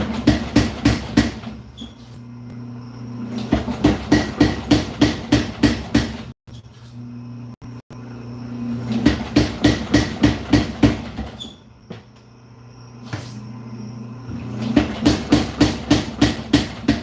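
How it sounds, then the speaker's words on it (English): Power hammer forging hot metal, pounding out long runs of fast, loud, evenly spaced blows. Short pauses separate the runs, and a steady motor hum carries through. "I'm gonna use the power hammer"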